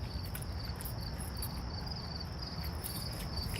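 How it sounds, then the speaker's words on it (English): Crickets chirp in a continuous high, shimmering trill outdoors at night near a building in Cottage Grove, steady and moderately close over a low background hum, with no voices. "You can hear the crickets."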